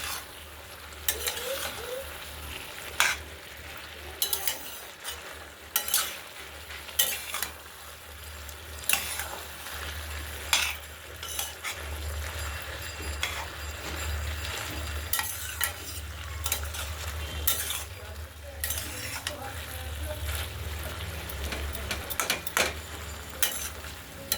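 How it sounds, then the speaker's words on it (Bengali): A spoon stirs and mashes boiled potatoes, beans and eggplant into a spinach curry in a pan, with repeated scraping strokes in a loose rhythm over a low, steady sizzle. "একটু নেড়ে চেড়ে মাখো মাখো করছে"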